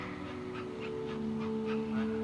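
A service dog whimpers in the video game That Dragon, Cancer. A series of soft, high, rhythmic whines repeats over a steady tonal hum.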